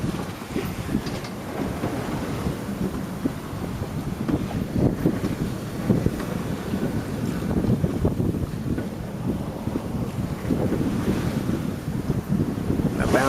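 A sailboat at sea on a passage from Hawaii to San Francisco, helm lashed after the wind vane broke: steady loud wind buffeting the microphone over continuous rushing, splashing waves and hull slaps, with no talking.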